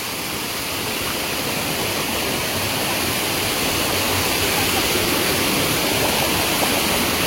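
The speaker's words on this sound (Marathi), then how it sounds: "हा छोटासा धबधबा व्हाळीतला." A small waterfall in a stream, a constant close rushing roar of falling water holding steady throughout with no voices.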